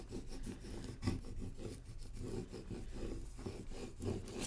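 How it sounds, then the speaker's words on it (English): Adhesive vinyl is burnished onto transfer tape with quiet, close rubbing and rasping strokes repeated in a steady back-and-forth rhythm, and no voices. "burnish this again so that it sticks to this transfer tape."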